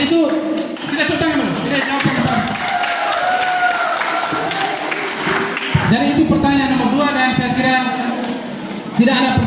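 A school student council audience at a debate breaks into clapping, and the applause runs on for several seconds. A voice talks over it most of the time.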